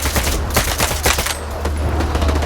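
Automatic weapon fire in the video game Stalker 2, a loud, rapid burst of shots in quick succession over a steady low rumble, with no speech.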